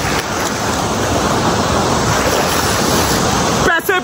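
Cold water pours at the hidden Neela Whan waterfall as a loud, unbroken rushing roar close by, with a voice cutting in briefly at the very end.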